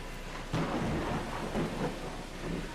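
Rain falls steadily in the video game VEIN while low thunder rumbles roll through in several soft swells, a fairly quiet storm ambience with no voices.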